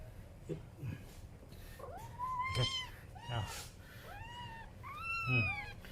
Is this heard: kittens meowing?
yes